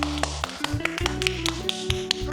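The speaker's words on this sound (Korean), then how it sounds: "자, 엄마한테 박수." Rapid, steady hand clapping at home for a mom after baking a Gugelhupf cake, crisp close claps in a quick even rhythm over a faint tonal background.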